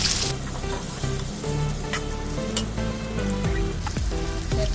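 Bay leaves sizzle in hot oil while a country-chicken curry with new potatoes cooks, making a continuous close frying hiss with a tonal hum running underneath.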